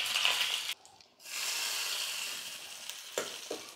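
Hot tempering of urad dal and curry leaves hits coconut chutney with a loud, steady sizzle, cut by a short pause before surging back and hissing on, with a few sharper crackles near the end.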